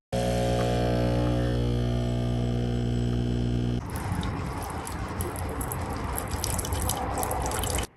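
A loud, steady machine hum gives way to hissing, gurgling sputters as Keurig K-Express and Nespresso Mini pod machines pump and dispense coffee, cutting off abruptly at the end.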